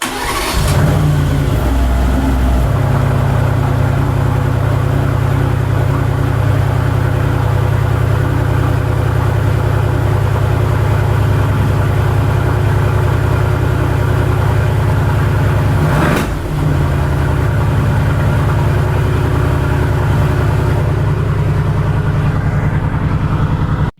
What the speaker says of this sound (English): I couldn't hear you actually say anything over the engine of that car.